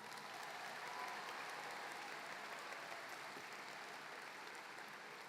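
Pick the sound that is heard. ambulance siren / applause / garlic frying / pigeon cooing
applause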